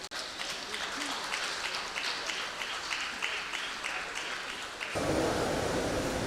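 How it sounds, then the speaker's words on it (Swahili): A crowd gives sustained clapping for Professor Chris Maina Peter, guest of honour at the EJAT 2018 ceremony. The dense, steady applause runs throughout and swells slightly louder near the end. "Naomba tumpigie mgeni wetu rasmi makofi kwa mara nyingine tena"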